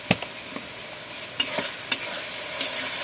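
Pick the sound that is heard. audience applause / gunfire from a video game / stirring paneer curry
stirring paneer curry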